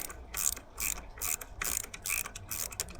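An Allen key with a ratcheting action turns the brake pad bolts on an Amflow PX Carbon bike, producing a close series of quick clicking ratchet bursts in irregular rhythm, with no talking.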